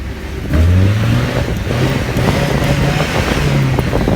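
A Tofaş car engine runs nearby with a steady low rumble that picks up into a few rising revs and then eases back, with no talk over it.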